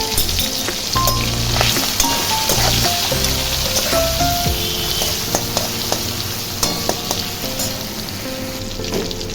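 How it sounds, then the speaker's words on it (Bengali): Prawns fry in mustard oil, a dense steady sizzle with crackles and small stirring clatters close by, heard alone for the whole stretch. "চিংড়ি মাছটাকে আমরা ভেজে নেব।"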